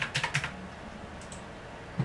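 Computer keyboard typing in quick bursts of close, crisp key clicks at the start, then a pause and a single final keystroke, quiet and indoors with no talking.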